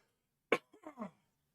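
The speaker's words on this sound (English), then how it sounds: "Sorry, I've got to get a cough out of me." A single sharp cough bursts out, followed by a few softer, rough throaty sounds, close by against an otherwise quiet background.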